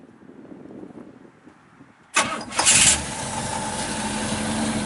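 A 1955 Pontiac Chieftain two-door with a 455 engine cranks after a quiet stretch, catches with a loud burst and settles into a steady, smooth idle close by.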